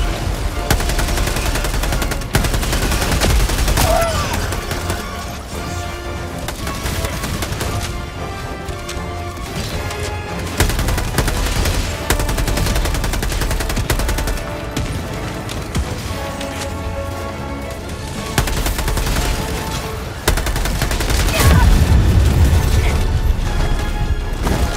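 Autocannon fire in the video game Helldivers 2, heavy repeated shots and crashing impacts running continuously over a dense, loud battle mix with music-like tones, with no talk.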